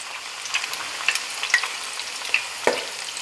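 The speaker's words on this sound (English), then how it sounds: "We're going to fry these. I'll probably give them a flip at some point, and you want them to be crispy and golden," Rolled tacos (flautas) frying in hot oil: a steady close sizzle with scattered crackling pops throughout, one louder spit near the end, and no voices.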